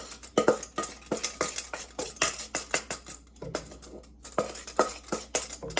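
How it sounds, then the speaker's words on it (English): An egg yolk and milk mixture is stirred into milk in a pot on the stove, with repeated metallic utensil scrapes and clinks against the pan in an uneven rhythm, close and clear, with no talking. "Now I'm going to add this milk, the egg yolk mixture with the milk, into the remaining milk that was left on the stove."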